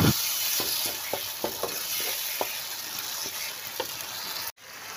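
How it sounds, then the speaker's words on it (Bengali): Spice masala being stirred in hot oil in a pan, sizzling steadily with a run of distinct utensil scrapes and taps at an uneven rhythm, close and fairly loud, cut off briefly near the end. "বেশ কিছুক্ষণ ধরে নাড়তে হবে যতক্ষণ না তেলটা ছেড়ে আসছে।"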